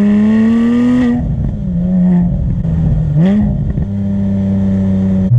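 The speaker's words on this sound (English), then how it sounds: "you don't really associate 6-cylinder engines with sounding this good" A 2007 Porsche 911 GT3 six-cylinder engine revs hard and close, a loud, smooth wail that dips and swells through throttle changes before climbing again, with no talking over it.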